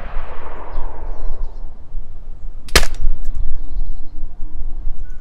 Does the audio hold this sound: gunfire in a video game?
yes